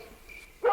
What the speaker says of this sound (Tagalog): agtataulan tay aso eh